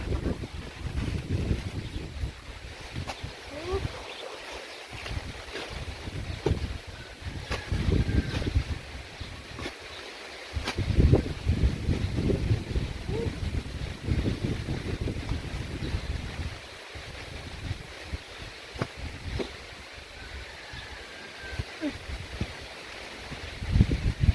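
Wind blows across a camera tripod outdoors, producing a continuous low rumbling buffet with gusts rising and falling throughout and no voices.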